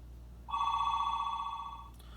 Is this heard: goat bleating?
no